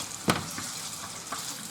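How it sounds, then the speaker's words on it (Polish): Chicken meat fries in a pan with a steady, close sizzle and a soft crackle, punctuated by one sharp tap near the start. "w międzyczasie się tym mięso podsmaża osobno"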